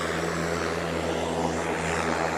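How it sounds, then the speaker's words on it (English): A propeller plane flying over Coal Harbour in Vancouver near Stanley Park, its engine a steady, loud droning hum that holds throughout without any talking. "Plus you get to see the planes, which is cool."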